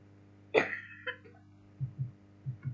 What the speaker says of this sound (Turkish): ben çok kötü öksürüyorum abi